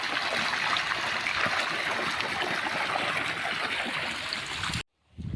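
Water pours steadily along an irrigation channel on a farm, fed from a four-inch pipe after a valve is opened, a continuous rushing gurgle up close that cuts off abruptly near the end.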